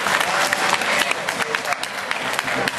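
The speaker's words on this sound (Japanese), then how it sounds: "C、福浦和也選手だと思う方、拍手をどうぞ。" Audience applause at a Chiba Lotte Marines quiz event, steady mid-distance clapping from the crowd lasting the whole stretch, with voices talking over it.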